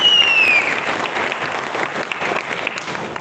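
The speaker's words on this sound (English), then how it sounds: "Let us give a big clap for it." Audience at a convention's valedictory ceremony breaks into loud, dense applause, with a brief high whistle at the start and steady clapping continuing throughout.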